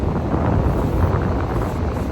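Steady, broadband wind roar at a beach buffeting the microphone outdoors, continuous and fairly loud with no voices.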